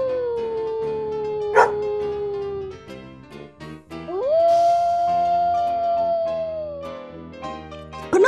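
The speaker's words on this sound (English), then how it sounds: "and barked and howled all night." Dogs in a comedic family film scene, heard as a drawn-out mournful howl, then a sharp bark near the middle, another long rising howl, and a final bark, all loud and close over a soft musical background.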